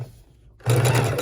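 A sewing machine stitches a pocket onto a bulky sheet of cardstock for a junk journal page, starting after a brief quiet moment with a steady, close, loud mechanical whir and rapid needle chatter.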